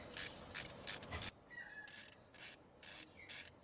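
A ratchet tightens a bolt during a service on a 1986 Toyota 4Runner, a run of close, crisp clicking bursts followed by a pause and then a few slower ratcheting strokes.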